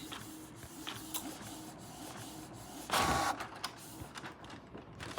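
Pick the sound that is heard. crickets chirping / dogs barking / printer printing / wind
printer printing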